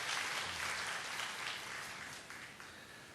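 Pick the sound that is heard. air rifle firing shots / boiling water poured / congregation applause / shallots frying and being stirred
congregation applause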